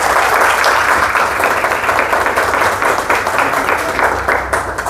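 Audience at a bullock cart race event gives a loud burst of steady, sustained clapping, dense and continuous from a crowd nearby.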